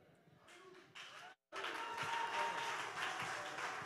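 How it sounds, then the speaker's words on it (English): A church congregation claps and applauds during a Sunday service. The clapping starts faint, breaks off briefly, then returns as a fuller, steady burst of many hands. "Make that clapping louder for Jesus."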